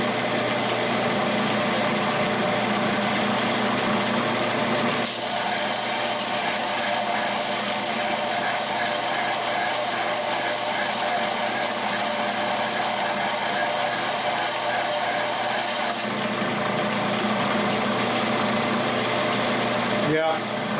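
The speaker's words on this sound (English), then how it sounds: "we're going to put this on a belt sander for just a few minutes and just to smooth up these 2 surfaces" A belt sander smooths the faces of metal vise blocks with a continuous loud mechanical whir and grinding hiss; the tone shifts as the load changes partway through, ending with a sharp click.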